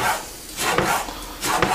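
A knife slicing fruit flesh into thin strips for guacamole on a board, a few soft close cuts with brief taps as the blade meets the surface.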